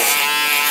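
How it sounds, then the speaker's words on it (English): An electric foil shaver buzzes as it shaves a head during a skin fade. The whine is steady, high and loud, very close, heard alone in one short continuous stretch. "I'm gonna put a line in with the foil shaver"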